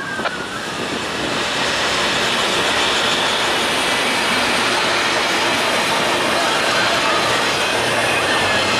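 Norfolk Southern NS 273, a daily intermodal freight train on the Chicago Line, rolls past loud and close, a sustained roar of rail noise and wheel clatter that builds within the first second and holds steady.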